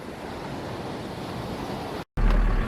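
Southern Ocean surf rolls against the Eyre Peninsula coastline, a broad steady wash of waves mixed with wind noise, briefly cut off near the end before resuming louder.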